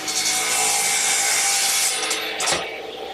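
Wooden table rails being cut to length with a saw, a loud, close, continuous rasping cut for about three seconds that ends in a short crack.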